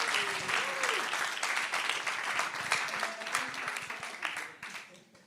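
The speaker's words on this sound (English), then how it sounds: "one more applause for the new board, the ones that will lead us for the coming 2 years" A general assembly audience at a Volt Belgium meeting applauds the newly elected board with sustained, fairly dense clapping that stays steady before fading slightly at the end.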